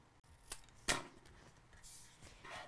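Paper scraps being trimmed for card making, a faint crisp cut near the start followed by a sharper, louder snip and a few soft rustling cuts, quiet and close with no talking.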